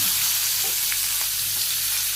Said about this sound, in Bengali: তেল গরম হয়ে গেছে, কারকলগুলো দিয়ে দিই